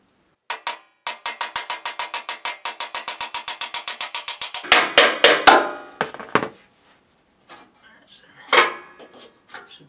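A hammer taps a cover off a Harman P68 pellet stove: a rapid run of sharp metallic taps, evenly spaced, followed by a few heavier knocks and scattered clatter, close and fairly loud.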